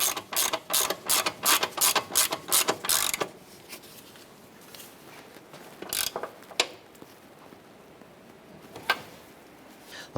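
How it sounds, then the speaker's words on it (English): A ratchet tightens the upper ball joint nut on a 2008-2012 Honda Accord, a quick run of loud, close clicking strokes followed by quieter scattered clicks and pauses. "Let's go ahead and tighten down our upper ball joint nut here."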